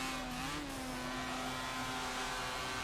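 Nissan Z race car engine droning steadily from behind in Forza Motorsport 7, a sustained tonal whine with a brief pitch bump early on, no talking.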